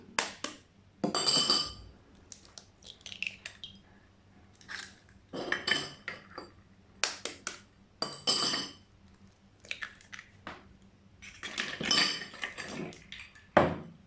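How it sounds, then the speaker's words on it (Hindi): Eggs cracked into a bowl for an omelette, with repeated sharp clinks and taps of shell and utensils against the bowl, close and in bursts, no talking. "सबसे पहले एक बाउल ले लिया, इसमें अंडे डालेंगे"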